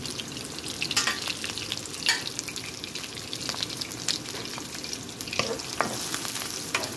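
Onions and tomatoes sauté in a pan for sinigang na bangus, giving a steady close sizzle broken by occasional scrapes and stirring clatter.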